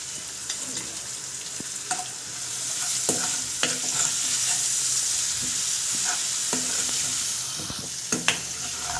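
Okra (ladies finger) sautéing in a pan with salt and turmeric, a continuous oily sizzle broken by repeated scraping and clinking strokes of a spatula stirring against the pan.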